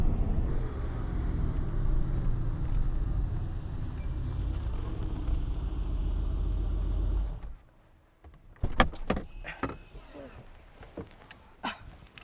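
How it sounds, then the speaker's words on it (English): A Mercedes-AMG GT V8 rumbles deep and loud for about seven seconds, then cuts off abruptly, followed by quiet scattered clicks and knocks. "Thump you in the gut with the big amount of V8."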